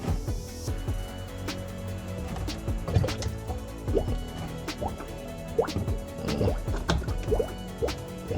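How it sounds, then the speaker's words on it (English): Engine oil drains from a 2011 car into a drain pan during an oil change, heard up close as a stream of liquid with irregular drips, splats and gurgles spread across the whole stretch. "So we're going to let that drain out for a little while."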